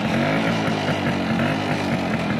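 Yamaha RX motorcycle engine running right after a kick start, a loud, steady two-stroke burble with a rapid rhythmic pulse, heard up close and on its own.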